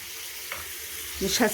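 Pieces of beef for a meat and potato stew sizzle in a hot pan as they brown, a quiet, steady frying hiss with a few brief stirring sounds near the end.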